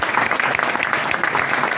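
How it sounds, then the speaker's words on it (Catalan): A jazz club audience at the Jamboree in Barcelona applauds steadily, a dense wash of many hands clapping at close range with no break. "un aplaudiment, sisplau"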